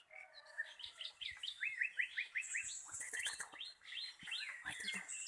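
Several wild birds sing around Selomangleng cave, rapid chirps and rising whistled notes layering into a busy, continuous chorus at moderate distance.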